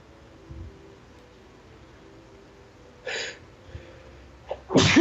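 A person sneezes once near the end, preceded by a short sharp intake of breath; a quiet indoor hum sits underneath, with no talking.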